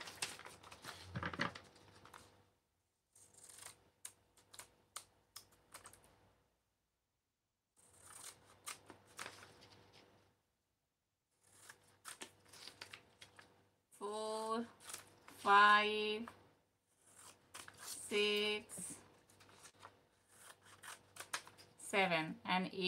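Clay blocks are cut by hand for a clay-and-decoupage lamp in Iranian style, giving soft scraping and snipping sounds in scattered bursts between quiet gaps, with brief bits of voice near the end.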